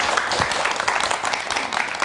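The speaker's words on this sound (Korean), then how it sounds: "자, 그럼 그 얘기를 큰 박수로 청해 드리도록 하겠습니다." An audience applauds a speaker at a talk on breast cancer, a brief burst of dense, steady clapping filling the room at moderate volume.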